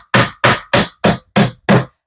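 A hammer drives finishing screws in carpentry work, six sharp, evenly spaced strikes ringing loud and close, with no talking.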